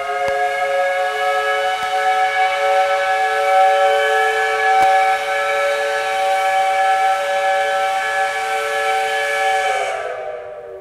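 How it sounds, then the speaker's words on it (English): A loud campus steam whistle blows one long, steady, multi-toned blast for about ten seconds before cutting off abruptly. "You're going to hear the whistle over here."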